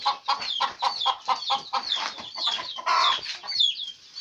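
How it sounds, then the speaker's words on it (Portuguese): A chicken on a farm clucks in a quick run of short, repeated calls, close and fairly loud, with no talk over it. "Só um galinhozinho aqui"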